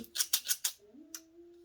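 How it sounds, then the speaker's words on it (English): Fancy-edge scissors snip through florist's bouquet wrapping paper in a few quick crisp cuts, close and fairly quiet, with no talk. "scissors with a fancy edge and cut, or try and cut"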